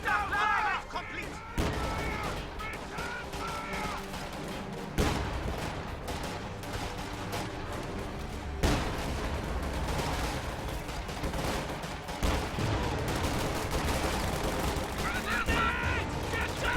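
Gunfire in a competitive World War II shooter match: bursts of rifle and machine-gun shots with distant explosions, dense and repeated throughout, under shouted in-game voice callouts.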